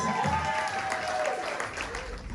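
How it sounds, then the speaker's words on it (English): Wedding guests applaud the groom during a ceremony at a Brooklyn loft venue, a brief burst of clapping from a moderate crowd, fairly soft and distant, with a voice speaking over it. "Let's give him a big round of applause."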